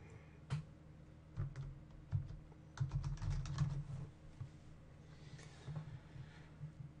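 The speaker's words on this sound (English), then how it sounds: "So I'm going to type in and enter my username." Keystrokes on a computer keyboard as a username is entered, a quick irregular burst of clicks with a short dense run in the middle, close and clear with no talking.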